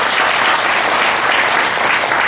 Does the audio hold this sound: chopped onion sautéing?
no